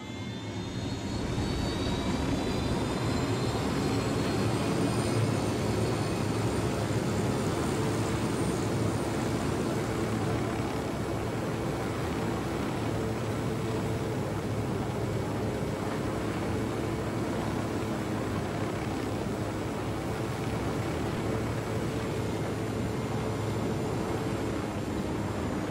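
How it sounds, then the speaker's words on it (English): A surveillance drone in the video game Ghost Recon Wildlands flies with a steady, loud engine drone that holds throughout, like a jet or propeller whine with a faint high tone above it. "Drone is up."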